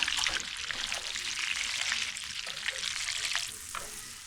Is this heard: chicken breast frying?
yes